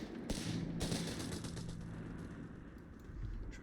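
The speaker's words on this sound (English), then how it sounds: "Ripping the party out in the open with the MG-34" MG-34 machine gun firing in the video game Company of Heroes 3, a sustained rattling burst of rapid shots under a low rumble, faint and distant in the battle mix.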